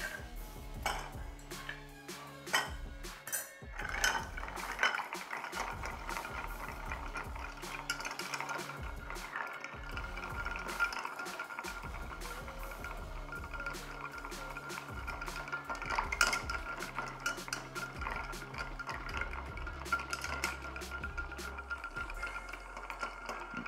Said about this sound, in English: we are going to stir this for approximately 20 seconds or around 60 revolutions, just to ensure that we chill and dilute this cocktail